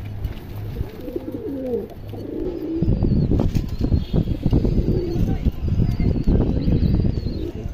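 Indian highflyer pigeons coo in low, soft repeated calls nearby, along with occasional wing flutters, while someone talks over them throughout.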